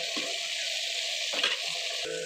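Tomato with ginger-garlic paste sautéing in a pan gives a steady, close hiss of frying, with brief stirring scrapes breaking through at a few moments.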